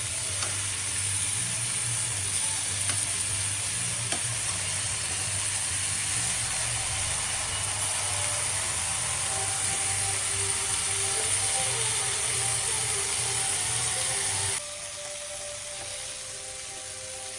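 Fish fry sizzling steadily in a hot pan, a dense continuous hiss with faint stirring and a low hum beneath, cutting down abruptly near the end as the heat is turned off.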